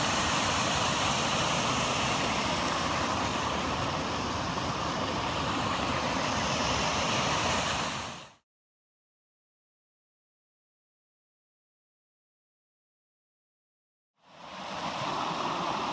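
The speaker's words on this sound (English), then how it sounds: "About a 2 metre high waterfall there." A small waterfall about two metres high on a Tasmanian bush hike pours in a steady, loud, close rush, cutting to silence midway and then resuming.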